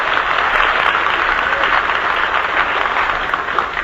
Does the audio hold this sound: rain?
no